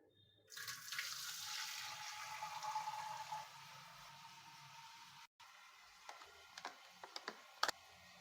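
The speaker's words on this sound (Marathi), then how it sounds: "पिण्याचं पाणी आलेलं आहे तर आता आपण हे ना माठ भरून ठेवू" Drinking water runs steadily into a clay pot for several seconds, a broad rushing pour that stops, followed by a few faint clicks and taps.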